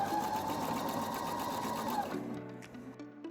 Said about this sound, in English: I use my Husqvarna Opal 650 and sew with a stretch seam around.